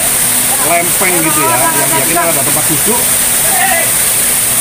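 Waterfall in Mojokerto with a sitting rock behind it, a loud constant rushing roar of falling water that fills the scene while someone speaks over it close by.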